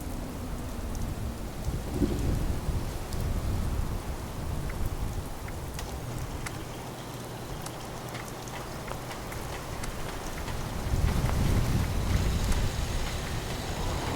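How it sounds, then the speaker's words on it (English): Heavy rain pours down in the video game Fallout 76, a steady hiss of downpour with low rumbles of thunder swelling twice, no talk over it. "Now it's gonna be pouring down rain."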